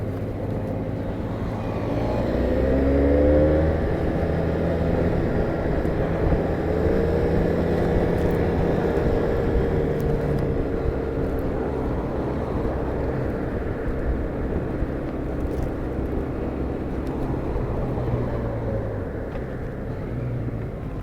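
A 2019 Benelli 502C motorcycle cruises steadily, its engine drone blended with heavy wind rush from riding, a constant loud rumble with slight rises in pitch as it accelerates, no talking.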